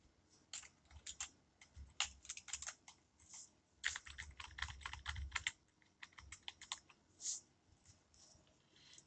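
Close, fast typing on a computer keyboard while entering text in Microsoft Word, a dense run of crisp, irregular key clicks with short pauses between bursts and no voices.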